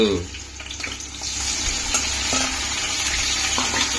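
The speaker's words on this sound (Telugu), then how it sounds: "అందులో మష్రూమ్స్ని ఒక 5 నిమిషాలు ఫ్రై చేసుకుని తీసేసుకోవాలి" Mushrooms fry in hot oil in a home kitchen pan, a steady close sizzle with a broad hiss that holds throughout, with faint stirring scrapes and no clear speech.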